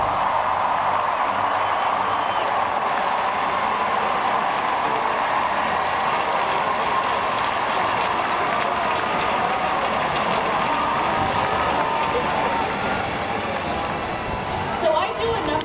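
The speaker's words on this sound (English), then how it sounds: "So now please just take a moment to cheer for your cheerleaders." A large graduation crowd at the 2019 NYU commencement ceremony cheers and applauds, a steady, broad roar of clapping and shouting that fills the space at even loudness throughout, with no voices standing out.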